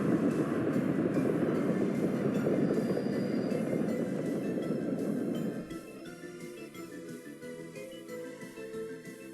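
Trains rolling through a Workers and Resources: Soviet Republic game world give a steady dense rumble that drops to a quieter, lighter rattle partway through, with no talking.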